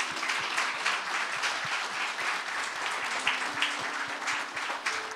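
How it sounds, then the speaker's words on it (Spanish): Church congregation applauding at the close of a service, dense steady clapping from many hands at moderate level, with a faint voice or musical tone lingering underneath. "Damos aplausos al Señor."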